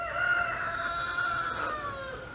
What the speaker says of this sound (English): Ah, there's the rooster.